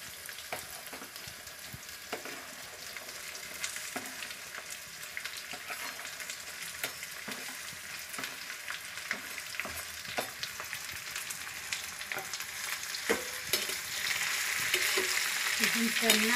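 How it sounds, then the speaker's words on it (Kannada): Chopped okra (bendekayi) fries steadily in a pan for a Karnataka-style palya, with a continuous close sizzle and occasional stirring scrapes and clicks, growing slightly louder toward the end. "ಈಗ ಬೆಂಡೆಕಾಯಿ ಹಾಕ್ತಾ ಇದ್ದೀನಿ."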